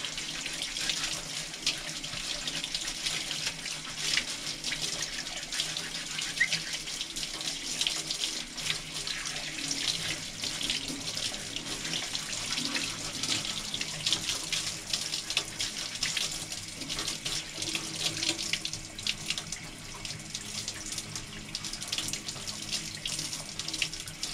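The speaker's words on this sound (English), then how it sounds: "Helps if water's running under it." Tap water runs steadily into a paint shop sink while debris is washed out during equipment cleanup, a continuous hissing splash with no voices.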